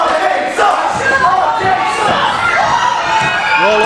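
A wrestling event crowd cheers and shouts continuously, with children's voices and whoops rising over a noisy hall and some talk mixed in.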